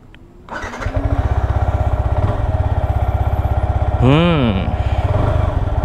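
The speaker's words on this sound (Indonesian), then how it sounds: "Kita nyalain terus kita jalan." A single-cylinder Yamaha R15M motorcycle cranks and starts up close by, settling into a rapid, thumping idle. The engine is revved once, rising and falling, before the bike pulls away.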